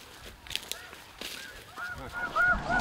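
A huge flock of snow geese over a hunting decoy spread gives repeated overlapping honks from the distance, growing louder and denser toward the end.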